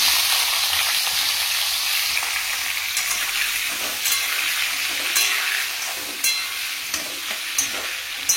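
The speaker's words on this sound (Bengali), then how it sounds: "কালো জিরে ফোড়ন দিয়ে দিলাম, দিয়ে ঝিঙেটা ভাজতে বসিয়ে দেবো।" Ridge gourd frying in oil with a black cumin seed tempering, a steady loud sizzle with occasional stirring scrapes and clinks throughout, no voices.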